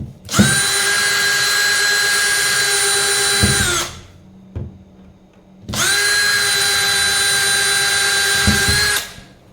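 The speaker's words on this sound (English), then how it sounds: "it's a provided drill bit, and that means that we don't drill too far into the appliance" A power drill runs loud and steady in two long bursts, drilling into a Bosch appliance for a stacker, whining at a constant pitch, with a short quiet gap and a faint click between them.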